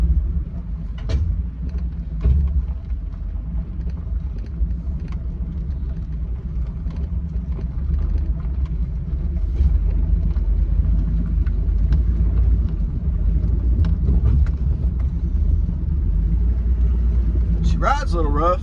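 A car that has just had a cheap fuel line repair pulls onto a main road, its engine a steady loud low rumble throughout with a few knocks and bumps.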